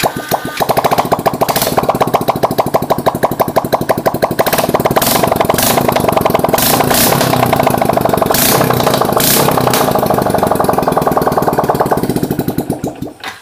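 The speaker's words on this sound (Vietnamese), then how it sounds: "Để nổ máy cho các bạn nghe, tại chưa bắt bô thì tiếng" A Yamaha Exciter 135cc motorcycle engine runs with no exhaust fitted, loud and raw, a rapid rattling putter with no muffling, steady throughout before tapering off at the end.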